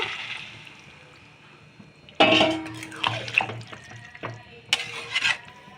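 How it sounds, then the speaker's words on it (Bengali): Water is poured into a chickpea and potato curry in a pan, heard as a splashing pour and then stirring with intermittent clatter, faint and close. "জল অ্যাড করে দিচ্ছি, দেখতেই পাচ্ছ।"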